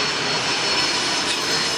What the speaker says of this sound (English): Sorry guys, there was an airplane. Just yeah, that plane like buzzed us.